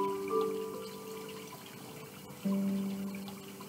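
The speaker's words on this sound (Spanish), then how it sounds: "Siente el sonido del agua" Water pours and trickles softly during a yoga class, steady and fairly faint, with gentle tonal tones and small splashes coming and going and no voices.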